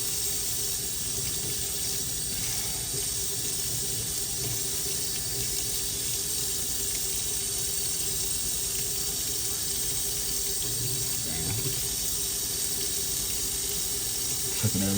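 Hot water pours steadily from a kitchen tap into a sink during decontamination of dental instruments such as forceps, a constant close hiss and splash running the whole time.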